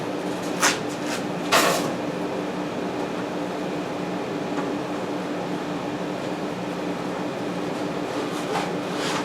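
A motherboard tray slides into the finely machined slits of a Case Labs THW10 computer case, giving two short scraping clunks near the start and then a steady low hum.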